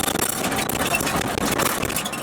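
A lifted Mazda Miata with newly tuned suspension drives along, its engine humming steadily under rumbling road and wind noise from inside the car.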